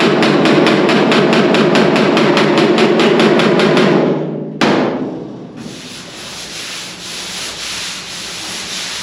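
A hammer works the dented metal of a car body with a rapid run of loud, close metallic blows. The blows stop sharply partway through, and a quieter rubbing scrape follows.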